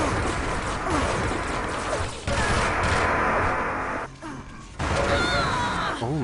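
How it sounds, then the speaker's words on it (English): Quake match gunfire with a railgun shot and shotgun blasts fired on a staircase, loud and dense within a busy stretch of game audio and clutter, with a short lull near the end. "Almost taken out there with the rail, and then the shotgun coming in from Pavel up the staircase"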